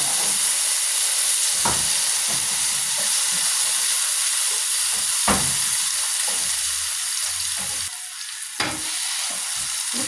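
Tomatoes frying in a pan of cooking oil, a steady sizzle and hiss with a few sharp crackles and spatters standing out, loud and close with no talking.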